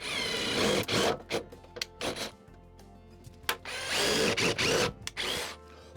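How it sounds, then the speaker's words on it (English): A power drill whirs in repeated bursts of varying length, drilling holes for a dust extraction separator, revving up and stopping several times, close and loud with brief pauses between holes. "So I have to drill all these holes now"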